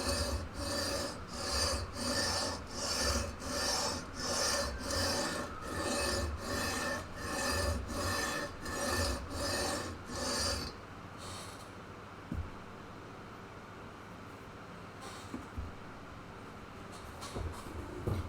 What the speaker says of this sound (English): So now I'm taking a leveling beam with sandpaper on it.